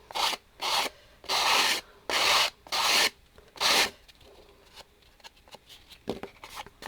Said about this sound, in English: this is just a sanding block, and you can just use that also